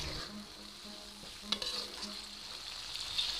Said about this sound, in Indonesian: Kembali kita aduk agar bumbu dan air asamnya itu bercampur dengan rata